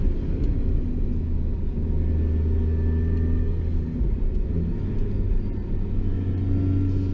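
A Mini R52 with a basic single overhead cam engine cruises on winding roads, giving a steady low droning rumble heard from inside the cabin, even and continuous with slight swells in pitch.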